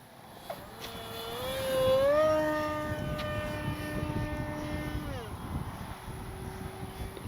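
An H-King Skipper RC airplane on its maiden flight whines overhead with a steady electric motor tone that rises to a peak, holds, then drops away as it passes, fairly close and loud against light outdoor background.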